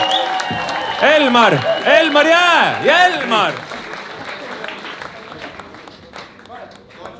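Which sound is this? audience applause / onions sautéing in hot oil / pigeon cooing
audience applause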